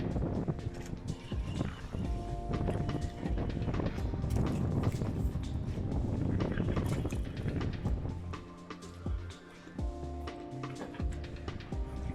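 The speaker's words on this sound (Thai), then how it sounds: "ทุกคนได้ยินเสียงแอมเบียนของลมที่เข้าในกล้องอย่างชัด เจน" Strong wind on Koh Chang buffets the camera microphone in a continuous loud, rumbling roar that stays heavy throughout and dips briefly near the end.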